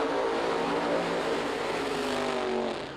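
Quaker State drag racing cars at a 1999 FIA event roar loudly and continuously, a dense broadband engine blast with steady tonal harmonics that eases slightly at the end, with no talk.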